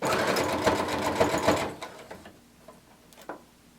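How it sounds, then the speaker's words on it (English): A sewing machine runs close and fast for about a second and a half while backstitching a sequin cardigan sleeve seam, then slows to a few quieter mechanical clicks and taps. "We're going to backstitch at the center as well, and then continue on to the back of the sleeve."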